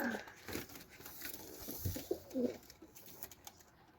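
Pigeons at a pigeon seller's house give a few soft low coos among faint background noise and light rustling, fairly quiet and without clear talk.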